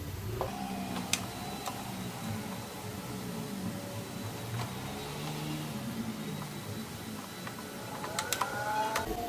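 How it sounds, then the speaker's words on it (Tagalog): An SRNE charger's cooling fan hums steadily while it charges, a low, quiet mechanical drone with light ticking and clicking around it, and no one speaking. "Medyo maingay at nagcha-charge yung ating SRNE. Humming yung kanyang cooling fan."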